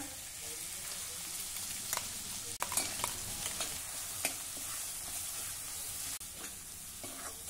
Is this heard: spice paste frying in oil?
yes